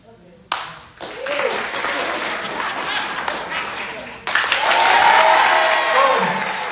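An audience at a live Saturday event claps loudly to vote for a contestant, two bursts of dense applause with a brief lull between them, the second burst swelling louder.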